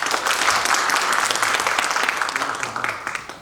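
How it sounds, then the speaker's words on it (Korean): An academic audience gives a professor a round of applause after a presentation at a seminar on Kang Jeungsan's religious thought, with dense, lively clapping that stays full before thinning toward the end. "훌륭한 발표해 주신 안 교수님께 다시 한번 박수 부탁드립니다."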